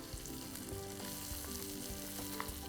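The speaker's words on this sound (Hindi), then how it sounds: "ये तेल है वो गरम हो चुका है। इसमें डालेंगे हम कुछ मस्टर्ड सीड्स और साथ में मिर्च, और फिर इसमें डालेंगे हम कुछ उबाले हुए आलू" Mustard seeds, green chillies and boiled potatoes sizzle steadily in hot oil in a pan, a continuous close frying hiss with small pops and faint stirring scrapes, no voices.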